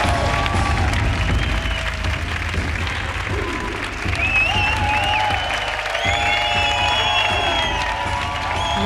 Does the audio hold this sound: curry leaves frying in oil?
no